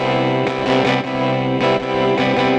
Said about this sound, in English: we're actually doing reverb into the amp